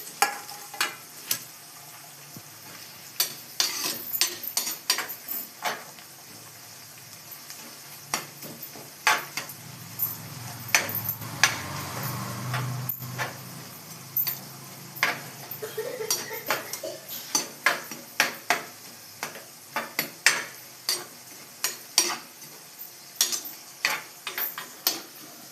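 A spoon scrapes and clinks against a pan while fish curry with curry leaves simmers and sizzles, the sharp metallic taps irregular and close, with a soft bubbling swell in the middle.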